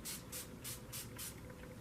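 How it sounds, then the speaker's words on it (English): Five quick bursts of NYX Dewy Finish makeup setting spray in a steady rhythm, close and soft against a quiet room. "I'm going to take this NYX Dewy Finish setting spray, and I'm just going to set my makeup in place."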